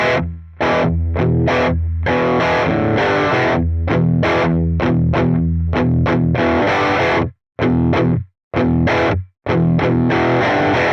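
Overdriven blues electric guitar through a Quad Cortex, level pushed past the amp volume for extra drive, plays a fast series of chopped chord stabs with brief silent breaks near the end.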